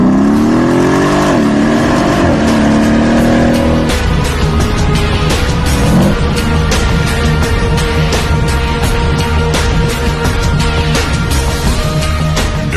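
Mercedes-AMG M157 5.5 litre biturbo V8 running on a test bench: a loud, steady engine drone that rises and falls in pitch through revs, continuous and close throughout.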